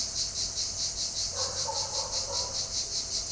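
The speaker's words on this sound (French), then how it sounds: "il y a des cigales qui chantent dehors" Cicadas sing outdoors on a summer day, a steady, shrill, pulsing drone that runs through the whole stretch, with faint chirpy calls rising briefly in the middle.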